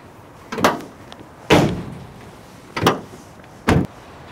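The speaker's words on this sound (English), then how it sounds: "So here we are at the side sliding door" The side sliding door of a 2021 Citroen Berlingo small van is worked, giving four sharp, close thuds and clunks spaced about a second apart, each a short slide and latch knock, against quiet surroundings with no talking.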